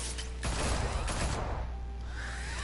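Rapid gunfire bursts in a Batman video game, a dense broadband volley rattling for about a second amid heavy low rumble, then fading into a ringing tail and ambient hum.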